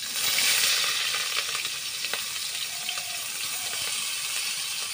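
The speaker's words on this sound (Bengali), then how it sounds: "এখন দিয়ে দিচ্ছি পেঁয়াজ কুচি আর পত্তা," Chopped onion and green chili hit hot oil in a kadai for a fish-scale fry, flaring into a loud sizzle that then settles into a steady crackle, with no talking.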